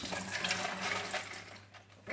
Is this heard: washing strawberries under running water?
yes